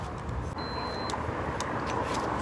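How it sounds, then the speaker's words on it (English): Road traffic passes outdoors as a steady, broad roar that holds constant the whole time, with a faint metallic jingle near the start. "There is some wind, there is some traffic behind me."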